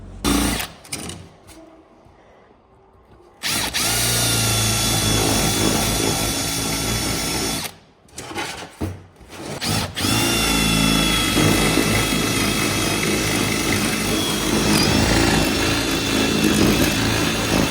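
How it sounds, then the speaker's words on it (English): Power drill boring holes in the ground for a self-built shed's foundations, a loud steady buzzing whine running long stretches with two brief stops and restarts, no voices over it. "So now we're going to drill one there, one there, one there,"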